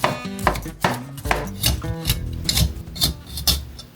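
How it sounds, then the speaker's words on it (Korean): A knife chops carrots and broccoli on a cutting board in a kitchen, giving a steady run of sharp, close knocks with brief scraping between the strokes. "당근이랑 브로콜리는 어차피 이따가 갈아주기는 할 건데 그래도 적당한 크기로 썰어줍니다"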